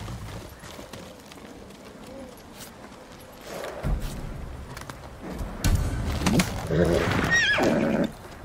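A horse in a video game whinnies loudly near the end, with rising and falling squeals, over a rumbling ambient background and occasional hoof or movement sounds.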